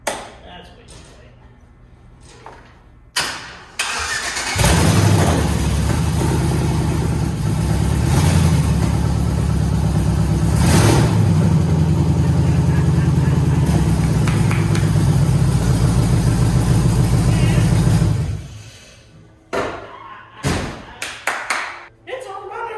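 A 1957 Chevy with an LS engine swap catches and runs, a loud, close, steady engine roar lasting around thirteen seconds before cutting off, with scattered knocks and clatter before and after.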